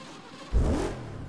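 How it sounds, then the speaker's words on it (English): A car engine in a racing video game gives one short, close rev that swells and fades over a low idle hum, with no voices. "this car still sounds good after how long this game has been out for"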